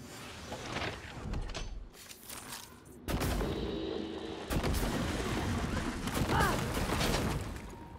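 Pistol shots in the video game Prey, a run of loud sharp bursts with booming gameplay effects in between.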